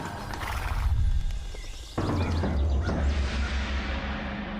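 A horse neighs and its hooves clop steadily as it is ridden, a loud, close story sound effect with a second burst of hoofbeats and whinnying after a brief drop.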